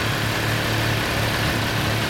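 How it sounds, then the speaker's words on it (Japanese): A Kawasaki Ninja 650 motorcycle engine runs at idle nearby, a steady low, throbbing hum that holds even throughout the short stretch with no speech. "エンジンを聞かせてもらえますか"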